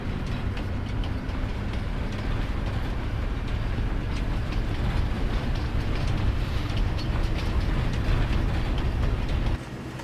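Train running in Farming Simulator 22, a constant heavy rumble with clickety-clack over the rails at a steady level, dropping away abruptly just before the end.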